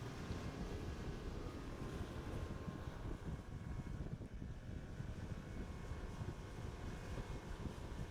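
A fast boat speeds across open water near Langkawi, its engine and hull noise forming a dense, loud roar buffeted by wind on the microphone, constant for the whole stretch without speech.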